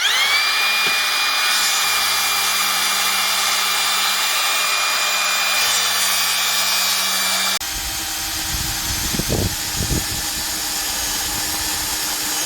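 A power drill bores holes in the front Lagun table post of a Coachmen Beyond 22C Li3 trailer, giving a steady, loud, high whine for about seven seconds before it stops, followed by a few quieter handling knocks.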